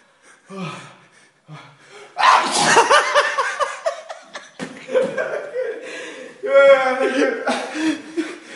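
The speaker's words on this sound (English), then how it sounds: "I don't get why do I have to sneeze, you know?" A man in a sneezing attack lets out a loud, explosive sneeze followed by gasps and breathy laughter, with bits of speech between the outbursts.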